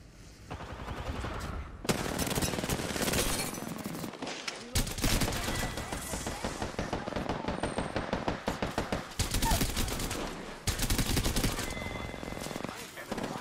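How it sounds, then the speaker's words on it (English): Dense, sustained gunfire from a battle royale shooter match, with rapid automatic bursts and crackling shots running loud and nearly continuous, broken by a couple of brief pauses, with a player talking over it. "The enemies are shooting at me."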